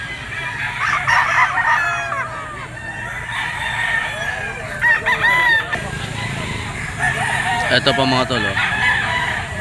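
Bull stag gamecocks crowing repeatedly at a Filipino rooster market, several crows overlapping amid clucking and steady crowd noise, with someone talking over them.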